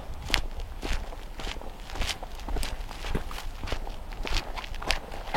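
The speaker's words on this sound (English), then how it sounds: "It's only footsteps." Footsteps crunch outdoors at night, a steady run of close, moderately loud treads repeating roughly every half second over a continuous low background hiss.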